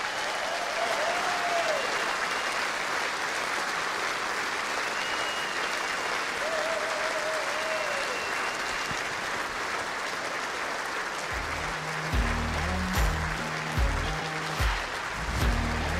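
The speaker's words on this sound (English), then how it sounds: "please give a huge round of applause, retaining her title for the Just 2020 Ladies World Championships" An indoor bowls audience applauds the ladies world champion Julie Forrest, a long steady wash of clapping that fills the whole stretch, with low music rising beneath it toward the end.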